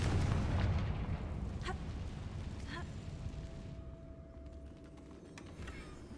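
A Confringo fire spell detonates in Hogwarts Legacy, near a bridge, with a loud booming burst at the start that fades into a long rumbling tail, broken by a few sharp crackles.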